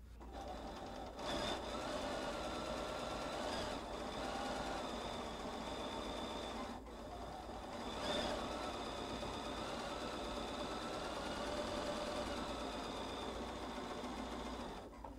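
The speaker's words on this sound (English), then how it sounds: "I'm gonna sew all the way down." A sewing machine stitches down the length of a quilted, insulated shopper tote with a steady, fast mechanical whir, running continuously at moderate volume with a couple of brief stops.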